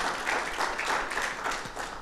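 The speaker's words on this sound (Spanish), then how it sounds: "Démosle un aplauso al Señor" Congregation applauding during a church service, a short burst of steady clapping at moderate volume with no voices over it.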